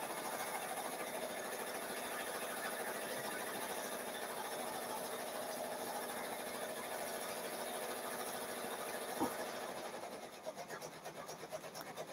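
Embroidery machine stitching a thick red satin stitch, a quiet, steady mechanical whir with rapid needle vibration running continuously before tapering off near the end.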